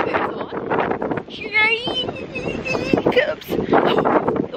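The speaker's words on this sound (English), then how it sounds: "It's ferociously windy right now." Wind buffets the microphone in strong gusts while a person talks over it, with a brief whistling tone partway through.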